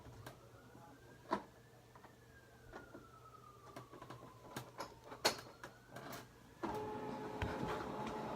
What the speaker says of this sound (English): If I have to turn that printer on and off every time I want to use it